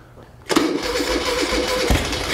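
A 1975 Moto Guzzi 850T motorcycle engine, abandoned for over ten years and primed with two-stroke fuel mix, suddenly catches after quiet cranking and runs loud, rough and close with an uneven roar.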